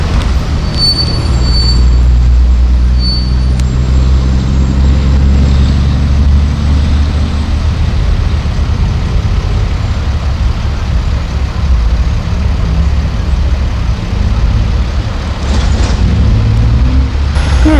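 LIRR commuter train 1922, an electric train on the main line, departs Pinelawn station with a loud, close, continuous rumble of wheels and rail noise, a brief high squeal near the start and steady rolling throughout.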